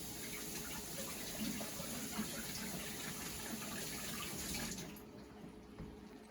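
Green pepper rinsed under running kitchen tap water, a steady soft gushing splash that continues for several seconds and then drops away near the end; no voices.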